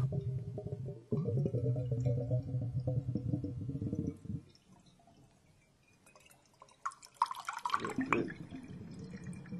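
Swedish vodka bottles of various sizes gurgle as liquid pours out: a dense, wet glugging for about four seconds, a quieter pause, then a brighter, splashy burst of gurgles near the end, close up with no talk.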